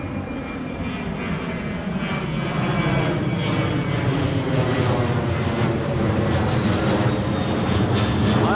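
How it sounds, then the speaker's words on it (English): A propeller airplane drones steadily overhead, a loud continuous engine hum that builds slightly over several seconds at an outdoor fishing spot, with no talk. "Oh, that plane is so annoying."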